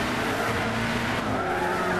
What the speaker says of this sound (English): With the braking power of my LMP2 car, some of the greatest stopping cars in the entire world in terms of racing.